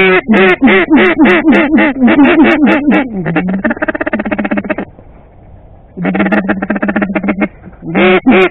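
Mallard ducks quacking in rapid, loud bursts during a duck hunt in South Carolina, close and continuous with a short lull before the raucous calls resume.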